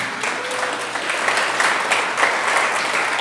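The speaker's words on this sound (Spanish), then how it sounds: "Denle un aplauso a Jesús, amén." A church congregation applauds steadily for several seconds, a dense, sustained wash of many hands clapping with no voices standing out.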